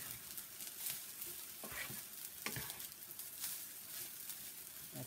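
Shrimp and garlic stir-fry for fried rice in a hot pan, giving a soft steady sizzle broken by a few scraping stirs of the spatula, fairly quiet and close with no talking.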